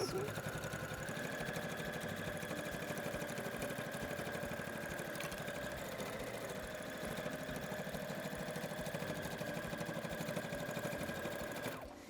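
A sewing machine stitches a teddy bear with a steady, close mechanical whir and rapid needle chatter running nearly unbroken for about twelve seconds, with faint voices underneath.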